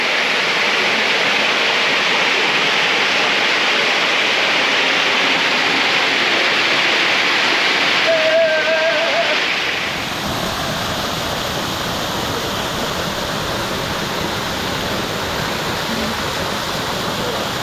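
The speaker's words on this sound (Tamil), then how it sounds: "இப்போ நம்ம பீமன் ஃபால்ஸ் வந்திருக்கோம்." Beeman Falls in the Jawathu Hills, Tiruvannamalai, pours down as a loud continuous rushing roar, steady throughout, with a brief faint tone near the middle and the wash turning slightly softer toward the end.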